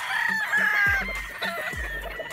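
Young battle stag gamefowl roosters at a gamefarm crow and cluck close by, with repeated short clucks and a couple of strained crows overlapping over a busy rural background.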